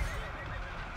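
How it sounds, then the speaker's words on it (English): A warhorse in the Total War: Three Kingdoms battle game, fighting Yellow Turban soldiers, gives a loud whinnying neigh over a dense roar of battle noise in one brief burst. "Oh, man, look at that horse kick. Knocked a bunch of yellow turbans everywhere."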